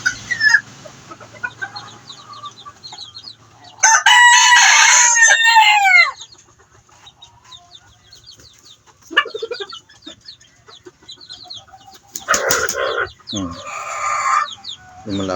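A fighting rooster kept for cockfighting clucks and crows up close in loud, harsh bursts, with quieter clucking between them and a short burst of human talk.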